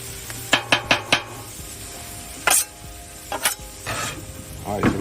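Onions sizzle in butter on a Blackstone griddle while a metal spatula scrapes and taps the hot surface in a few quick clinks, with a steady frying hiss underneath.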